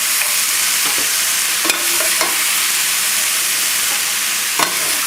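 Lamb and its pan juices hiss and sizzle in a hot pan while a utensil scrapes and stirs the contents toward a crock pot, giving a loud, constant frying noise with a few sharper scraping knocks.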